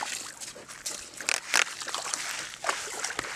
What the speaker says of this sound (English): Go for a swim, Jay.